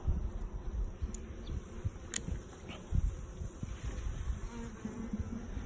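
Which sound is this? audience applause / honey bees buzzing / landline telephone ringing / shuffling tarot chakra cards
honey bees buzzing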